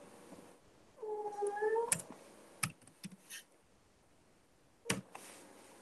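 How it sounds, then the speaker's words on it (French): A hungry domestic cat meows a few times, drawn-out whining calls close by, followed by scattered clicks and taps like keyboard typing in a quiet room. "Mon chat a faim."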